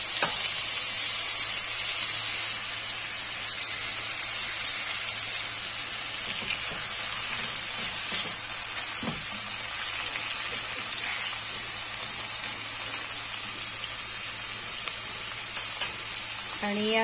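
Finely chopped tomato frying in a pan for a methi besan vegetable dish, giving a loud, steady sizzle that runs throughout with occasional stirring clatter, and no voices.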